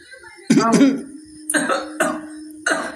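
A man close by coughs harshly several times in quick succession, with a throaty voiced onset followed by three sharp, separate bursts.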